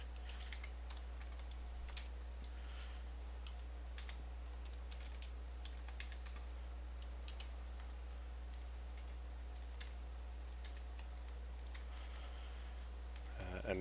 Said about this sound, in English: I'm typing off screen